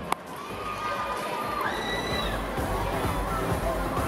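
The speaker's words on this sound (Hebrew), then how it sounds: "תודה רבה לבלט ויזאבי, בת ים, מחיאות כפיים" A crowd at a dance competition in Be'er Sheva applauds and cheers after the Vizavi ballet group's Huliganim routine, a noisy, continuous mix of clapping, shouts and hubbub with a sharp single clap at the start.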